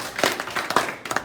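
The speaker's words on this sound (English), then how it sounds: "clap 5 times." A handful of people clap their hands in a quick, uneven burst of sharp claps that sound moderately close.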